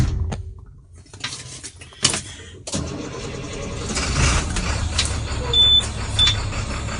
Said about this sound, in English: We can hear the engine running.